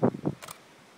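A camera shutter fires once with a short mechanical click-clack, close and crisp, followed by quiet.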